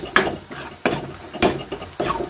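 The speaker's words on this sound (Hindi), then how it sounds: "मसाले को पकाते रहेंगे जब तक हमारे प्याज अच्छी तरह से भुन ना जाए, ब्राउन कलर का ना हो जाए।" Onions frying with kitchen king masala in a pan, stirred in about four distinct scraping strokes over a steady low sizzle.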